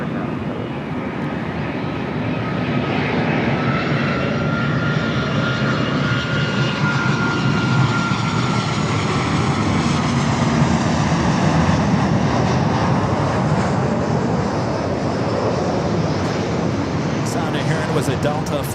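Lufthansa Airbus A380 in retro livery at Los Angeles International Airport, a steady loud broadband jet engine roar that holds throughout, with a voice talking over it at times.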